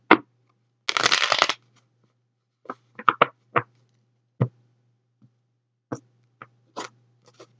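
A brisk riffle of tarot cards being shuffled, followed by scattered soft taps and slides of cards being laid down in a quiet room.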